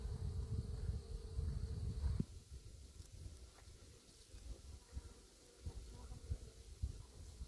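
Bees humming around beehives on a dull-weather apiary visit, a faint continuous buzz under low rumbling handling noise, with occasional soft knocks and a louder stretch at the start.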